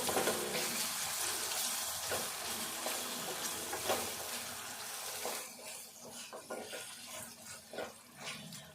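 Ginger garlic paste and onions fry in a pan with a steady moderate sizzle, broken by occasional stirring scrapes and a gentler crackle later on, with no one speaking.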